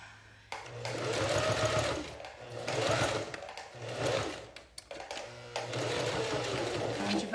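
A sewing machine runs slowly over bias binding on a fabric makeup bag, close up, in several whirring stretches broken by brief pauses.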